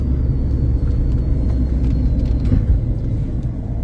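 A vehicle driving on a road through a Madhya Pradesh forest on a long trip from Delhi, a loud steady engine and road rumble from inside or close by, continuous with no talk.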